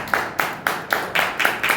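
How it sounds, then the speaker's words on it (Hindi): A church congregation claps together in a steady rhythm, about seven sharp, loud bursts of clapping at even intervals, with no talk over it. "ताली बजा के प्रभु के नाम।"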